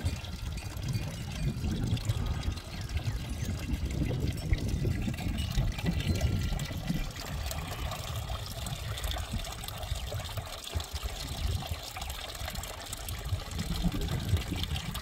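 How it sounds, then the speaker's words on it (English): A small alpine water fountain trickles and splashes steadily, a close, continuous wash of running water with no voices. "a little alpine water fountain"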